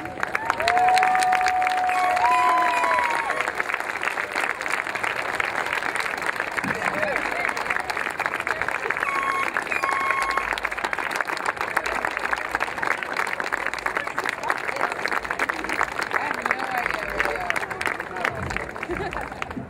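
An audience at a community college commencement ceremony claps steadily for about twenty seconds, dense sustained applause from a large crowd with a few faint cheers and murmurs, while a voice speaks over the sound system at times.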